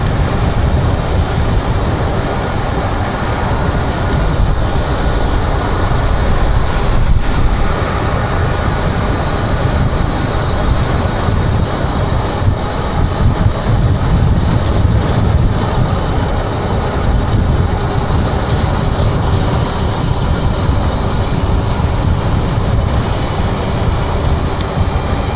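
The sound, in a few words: rattling from King Goat V3 electric bike motor while riding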